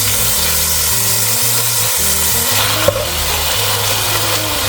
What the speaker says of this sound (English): go ahead and brown up your beef